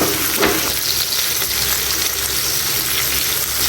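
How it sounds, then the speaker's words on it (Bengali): Soft pangas fish frying in a wobbly frying pan, a dense continuous sizzle close up with faint stirring, no voices. "মাছ ভাজাটা হয়ে গেছে একটু বেশি করে ভাজতেছি যেহেতু এটা পাঙ্গাস মাছ"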